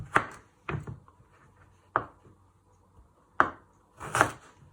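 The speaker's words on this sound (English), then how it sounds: "You first chop this one in half, then half again," A knife chops through a turnip on a board in five sharp, separate thuds with short pauses between them, close and clear in a quiet room.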